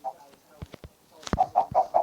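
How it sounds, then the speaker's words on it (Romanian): Soft, repeated hen clucks in Minecraft sound in a steady run of short pulses, mixed with light clicks and tapping. "Au crescut puișorii, am mai adus eu o găină."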